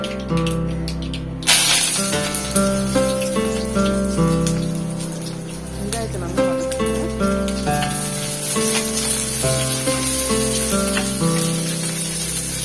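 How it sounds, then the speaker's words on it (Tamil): Mustard seeds drop into hot oil for vendakkai aviyal and burst into a loud, dense crackling sizzle that starts abruptly and keeps popping steadily, with background music playing underneath. "எண்ணெய் சூடாயிடுச்சு கடுகு போட்டுருங்க"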